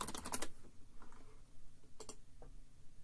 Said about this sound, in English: this is a tactile keyboard anyway